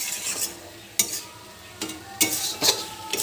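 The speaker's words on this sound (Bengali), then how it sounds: "একটু একটু করে দিয়ে নাড়া দেবো" Spoon stirring Gobindobhog rice paste into a thick banana flower curry in a pan, several separate scraping strokes with a light sizzle between them, close and without talk.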